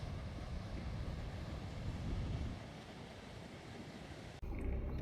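Atlantic Ocean waves and surf on the coast near Langebaan, South Africa, make a steady, fairly faint rushing roar mixed with wind noise.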